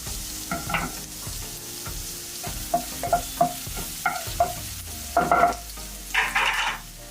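Ginger and garlic thrown into hot oil for veg manchurian crackle and sizzle as a spoon scrapes and knocks against the pan in short bursts, close up, with no one speaking.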